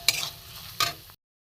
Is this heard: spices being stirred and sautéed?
yes